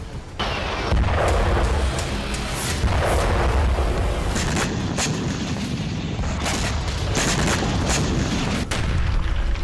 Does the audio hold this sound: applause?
no